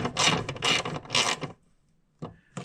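A ratchet tightens a bolt on a Sohn adapter oil tank mounting plate. Three bursts of rapid, close mechanical clicking are followed by a quiet pause and then two short clicks.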